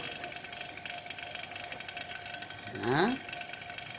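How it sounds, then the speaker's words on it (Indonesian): A car air-conditioning vacuum pump hums and rattles at a steady, moderate level, with a brief rising whine near the end as it is switched off. "kemudian pompa vakum kita matikan kembali"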